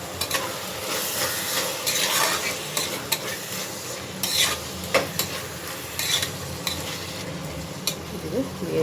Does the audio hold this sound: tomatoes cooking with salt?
yes